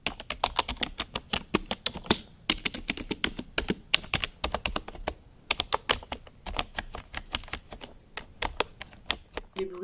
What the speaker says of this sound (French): les bruits des touches d'un clavier,